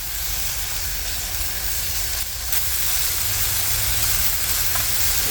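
Sausage frying in a pan on a camp stove inside a Honda Element: a loud, steady, close sizzling hiss that carries on without a break, growing slightly stronger midway.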